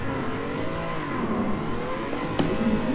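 Car engine in a racing video game played on a Thrustmaster T300 wheel, steady revving hum with rising and falling pitch while drifting, close and continuous with a brief thump near the end.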